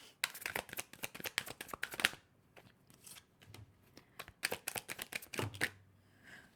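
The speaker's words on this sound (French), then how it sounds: "Même si les cartes font du bruit" Tarot cards shuffled by hand in quick riffling bursts, crisp flicking and slapping in two clusters with a short pause between, close and fairly quiet.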